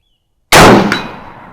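A single loud metallic clang as a Mosin Nagant rifle bullet strikes a steel gong at 100 yards, a sharp impact that rings on and fades over about a second.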